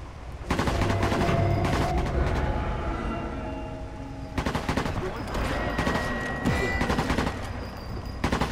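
Rapid gunfire from Sniper Elite 4 rattles in dense, loud bursts with heavy booming impacts, pausing briefly near the middle before another volley erupts, a grenade blast mixed into the chaotic firefight.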